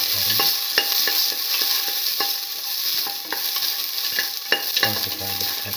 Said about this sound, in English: toss the garlic thoroughly with the rest of the mixture.